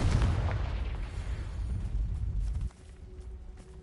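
A Confringo blasting spell explodes in Hogwarts Legacy on PS5, a loud deep boom with rumbling debris that fades into a lower tail after a couple of seconds.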